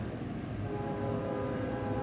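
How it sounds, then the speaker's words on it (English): A train passes outside, a steady low rumble with sustained horn-like tones running through it for the whole stretch, moderately loud and with no voices over it. "freaking trains"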